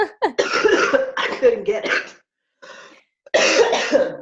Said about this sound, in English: I'm getting over a really bad cold, and I'm about to have a coughing fit.